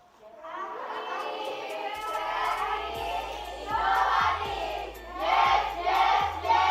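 A classroom of students chanting a rhythmic yel-yel cheer together, loud massed young voices rising and falling in repeated shouted phrases with a few thumps keeping time.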